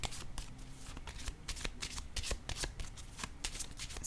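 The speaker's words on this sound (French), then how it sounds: "Je vais piger une autre carte." A deck of tarot-style cards is shuffled to draw another card, giving a close, soft, continuous run of rapid papery slides and flicks at a low level, with no talking.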